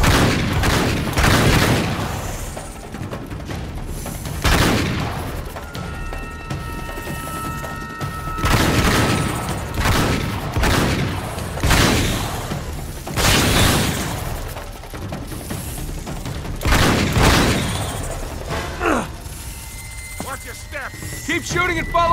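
Rapid gunfire and heavy shotgun blasts from Uncharted 3: Drake's Deception, with repeated loud booming bursts and thuds that keep coming throughout, mixed with shouted dialogue.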